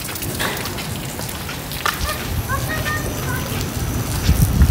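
Rain falls steadily outdoors as a broad continuous patter on surfaces, with a few splashes and nearby movement growing slightly louder toward the end.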